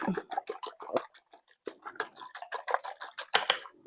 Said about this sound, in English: Just a good old whisk. Fluff them up.